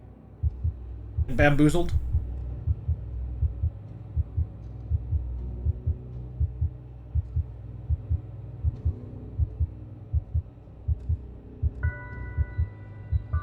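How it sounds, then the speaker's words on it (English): The radar in the video game Sable gives off soft, regular heartbeat-like thumps that keep a steady rhythm alongside the music, with a voice speaking over them and a brief bright tone partway through. "I like how the heartbeat sounds for the radar are like in rhythm with the music right now."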